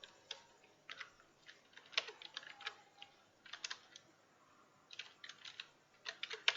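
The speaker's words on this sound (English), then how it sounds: "Okay, we'll retype these headings." Keys clatter on a computer keyboard in uneven bursts of quick taps separated by short pauses, close and clear, with no talking.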